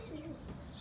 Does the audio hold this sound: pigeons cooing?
yes